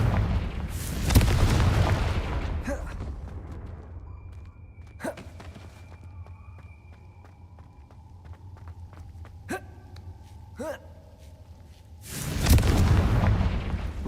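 Confringo fire spell explosions in the Hogwarts Legacy video game, where two heavy booming blasts open and close the stretch, with lighter cracks, impacts and game effects scattered in a quieter middle section.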